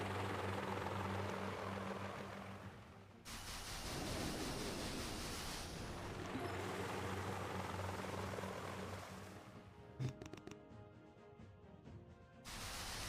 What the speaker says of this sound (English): I think rocket choppers are still the best attack.